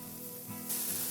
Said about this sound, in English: allow the onions to char on their own